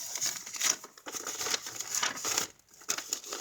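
Paper being folded over by hand while assembling a craft journal kit, a steady close crinkling and rustling that runs throughout with brief pauses.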